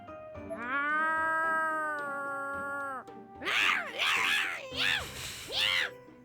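A cat in Corpse Party: Blood Drive, voiced by a human actor, gives one long drawn-out meow followed by four shorter yowling cries, loud and close.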